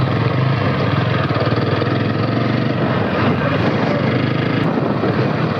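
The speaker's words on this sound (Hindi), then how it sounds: "एक्सीलेटर दिए बिना भी ये अपने आप जो है बाइक रनिंग करने लग जाती है।" A TVS Apache 160 4V or Apache 180 motorcycle engine idling and running on its own without throttle, a steady close, loud rumble with wind noise and no talking.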